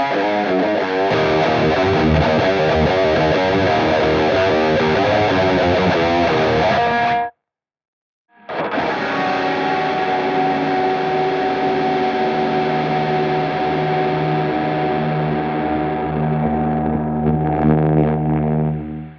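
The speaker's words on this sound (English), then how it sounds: "And now let's check out some distorted tones," Heavily distorted electric guitar through an mVave G-Tank v2 plays loud, gritty riffs, breaks off briefly into silence, then returns with sustained, buzzing distorted chords.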